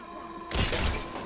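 Enemy armor shield shattering in Apex Legends, a sudden bright glassy crack that bursts in midway and rings briefly over a low background, with no talk.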